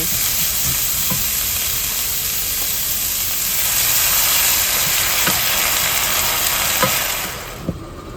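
Beef sizzles loudly in a wok after a little water goes in, a dense steady hiss of frying and steam with a few scraping stirs near the end.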